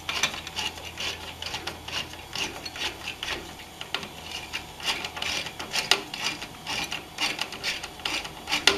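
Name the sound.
tightening spring-loaded CPU cooler screws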